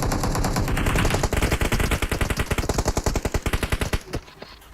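Rapid automatic gunfire in PUBG Mobile, a loud, close, sustained burst of evenly spaced shots that runs several seconds before cutting off abruptly.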